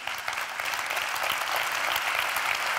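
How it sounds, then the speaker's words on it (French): An audience at a conference claps for collaborators, a full, steady burst of applause filling the room evenly from start to finish, with no voices over it. "Vous pouvez les applaudir."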